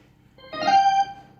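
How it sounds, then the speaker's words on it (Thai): A single short sampled note on a Casio CTK-4000-series keyboard sounds clearly, rising quickly and holding briefly before fading out. "อันนี้คือเสียงแซมแล้วนะครับ"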